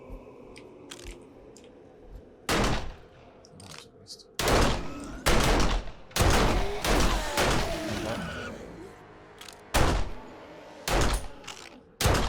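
Gunfire from firearms in the zombie survival game 7 Days To Die, several sharp loud bursts and single shots spaced irregularly over quieter background noise.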